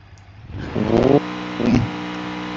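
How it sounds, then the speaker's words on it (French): An idling car engine in the BeamNG driving game keeps running after a crash, a steady low drone with two short louder revs swelling up and falling back. "Le moteur tourne encore dans cet état."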